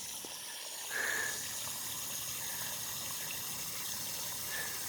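Water from a hose gushing into a 15-gallon pot around a peach tree in desert ground, a soft continuous flow with a short brighter splash near the start and a faint one at the end.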